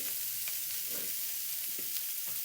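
Meat frying in a single pot sizzles steadily and loudly while a utensil stirs it. Soft scraping and clinking rise now and then over the continuous hiss.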